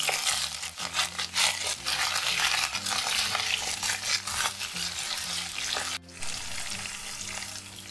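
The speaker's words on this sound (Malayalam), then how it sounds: "ഇതൊന്ന് വഴറ്റി കൊടുക്കാം." Ginger, green chillies and curry leaves sauté in a pan with a steady, close sizzle and occasional stirring, while a low tonal backing, likely music, runs underneath throughout.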